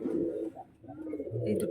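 Pet pigeons cooing softly at close range, a brief low murmuring coo that dips and then returns.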